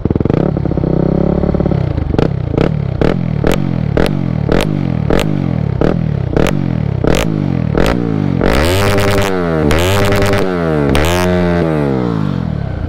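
Yamaha WR 250 supermoto engine revved hard from standstill, a rhythmic series of about a dozen quick loud throttle blips followed by several longer high revs, close and loud with no speech.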